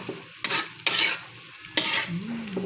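Tofu and pork stirred in a hot pan with a utensil: three sharp scraping strokes cut through a steady low sizzle, ending in a brief rising tone, close and moderately loud with no one talking.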